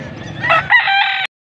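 A rooster crows once, loud and close, a short strained call that cuts off abruptly, at a cockpit in Angeles, Pampanga.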